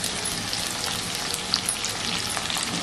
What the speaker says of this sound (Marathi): आता आपण याच्यात कांदा टाकूया.